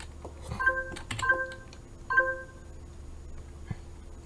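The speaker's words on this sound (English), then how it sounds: "Sorry, my phone's notifying me of something." A phone chimes with a short notification, a few quick tonal beeps repeated about three times, fairly faint, in a quiet room during a Blender tree-sculpting session with no talking.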